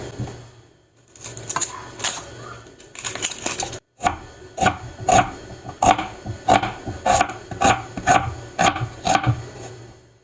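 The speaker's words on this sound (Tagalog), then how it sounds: "Hiwain lang natin siya na maliliit." An onion being chopped into small pieces on a board gives a run of crisp, evenly spaced knife knocks, loud and close, after a few looser cuts and a brief pause, with no voices.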